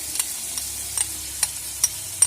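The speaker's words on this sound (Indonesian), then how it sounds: "Dan untuk selanjutnya itu teman-teman jangan lupa diaduk." Squid and shrimp with chili sambal are stirred in a wok, a spatula scraping and tapping against the pan in regular strokes every half second or so over a steady low sizzle.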